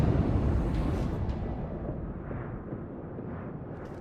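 Main battery guns of the German battleship Friedrich der Grosse fire in World of Warships, a heavy rumbling boom that rolls and decays slowly over several seconds, loud and deep.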